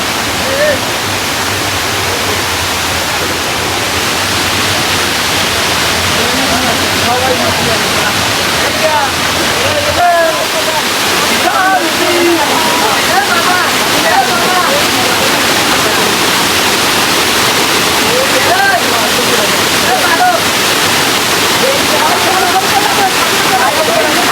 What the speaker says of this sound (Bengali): এটা হচ্ছে পিচ্চি একটা ঝর্ণা